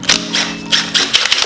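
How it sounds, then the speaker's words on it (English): Short bursts of an impact gun spin a 12mm socket on the timing belt tensioner bolts of a 2JZ engine, a few quick rattling zaps in close succession. "I'm going to use a 12mm socket, zap those off"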